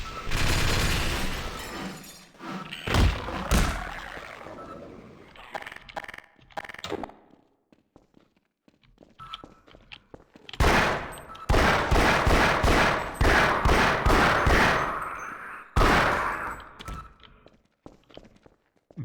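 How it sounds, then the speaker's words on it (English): An automated gun turret in the game Half-Life fires in loud, rapid bursts, several volleys separated by quieter gaps with scattered clanks and footsteps between them. "I get the feeling there's going to be a turret here. Yes, I can hear it."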